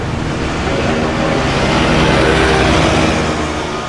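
Cars speed past on a busy road beside Tanah Kusir cemetery, a loud, steady roar of passing traffic that swells slightly midway and never lets up.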